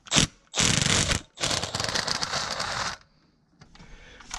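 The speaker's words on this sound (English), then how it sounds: "loosen the center intake manifold bolts" Ratchet working loose the Torx intake manifold bolts on a Toyota Tundra, Sequoia or 4Runner engine, heard as three close, loud bursts of rapid mechanical clicking separated by brief pauses.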